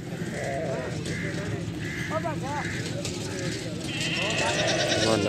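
Beetal goats bleat several times in short wavering calls amid a busy outdoor goat market in Faisalabad, with people talking and general crowd noise throughout.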